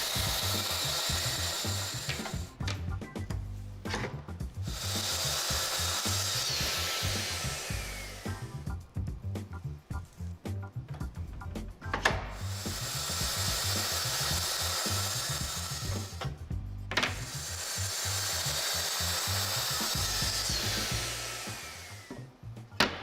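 Maple boards for a bedside table being ripped to size on a saw, with loud sustained cutting passes that rise and fall, separated by brief pauses and clattering handling of the wood.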